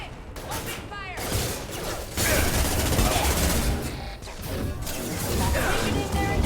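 Gunfire rattles on through a Mass Effect 2 video game battle, with dense, loud bursts and impacts packed together over a steady din of combat noise, while voices talk along with it.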